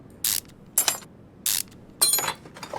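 Ratchet wrench in Car Mechanic Simulator 2021 taking off a shock absorber, four short bursts of rapid clicking with pauses between, crisp and close with no voice.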